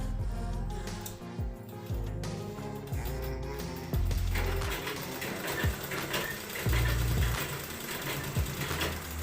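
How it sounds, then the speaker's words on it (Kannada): A sewing machine stitching an old cloth mat, running in a fast continuous rhythmic chatter with brief pauses and repeated thumps, close and moderately loud. "ಒಂದು ಅರ್ಧ ಇಂಚ್ ಗ್ಯಾಪ್ ಬಿಟ್ಟು ಸ್ಟಿಚ್ ಮಾಡ್ಕೋಬೇಕು"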